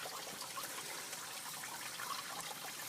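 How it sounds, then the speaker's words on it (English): Water drains from the radiator of a 1992 Lexus ES300 into a drain pan, a steady soft trickling hiss with no breaks, close and fairly quiet. "when water's going to flush out the radiator, it's going to drain into the drain pan"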